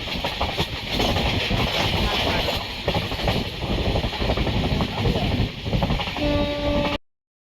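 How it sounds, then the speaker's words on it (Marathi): The Mandavi passenger train rumbles along the rails with rhythmic clatter and hiss heard from inside, loud and continuous, before a sustained horn tone near the end. "आम्ही ना ट्रेनने मुंबईला जायचा प्रवास करतो आहे"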